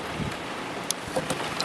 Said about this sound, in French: Il y a du vent qui s'est levé là actuellement.